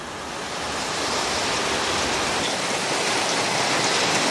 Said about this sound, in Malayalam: ഇന്ന് ശക്തമായ മഴ തന്നെയാണ്